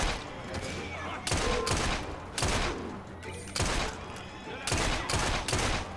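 A firearm fires in the Assassin's Creed Syndicate video game as several bursts of loud, close shots in quick succession, each burst separated by brief pauses, with faint game ambience underneath.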